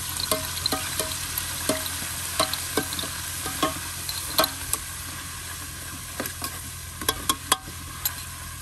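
A spoon clicks and scrapes in a pan again and again, irregular taps over a soft, steady sizzle of ginger-garlic paste frying for biryani.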